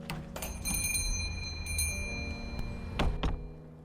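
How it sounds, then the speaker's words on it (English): Small bells hung over a shop door jingle in a story game, a few bright chiming strikes over a low hum, with a clearer pair of rings near the end. "My reverie is broken by the bells over the door"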